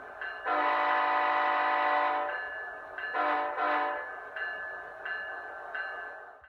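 A K5HL locomotive air horn from a SoundTraxx Tsunami2 sound decoder for a GE Tier 4 model sounds a long blast followed by several shorter toots, loud and clear with its chord of tones, with nothing else in the background.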